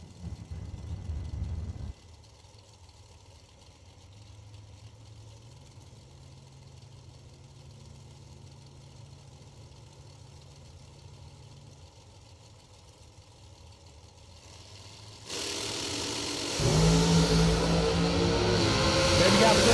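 Drag racing dragsters at a track event, starting as a low engine idle under an announcer's voice, then a loud surge as engines roar up near the end.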